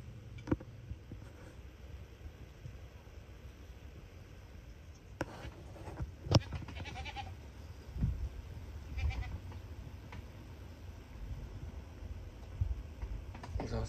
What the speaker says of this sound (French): Là, ce matin réveillé par les petites chèvres.